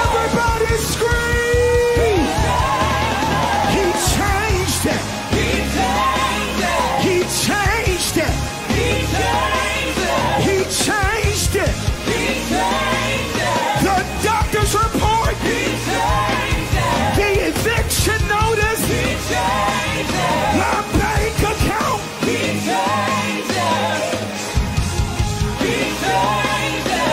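A church congregation screaming and yelling together at a service: a dense, loud, sustained roar of many voices, with music and shouting layered throughout and no break.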